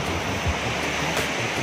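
The Lembah Anai waterfall beside the road near Padang Panjang, West Sumatra, roars as a constant broadband rush of falling water, loud and close, with a faint low thump partway through.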